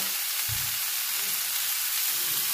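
Mixed vegetables being stirred and fried in a pan, a soft steady sizzle with a few low knocks of a spoon against the pan, fairly quiet and without talk.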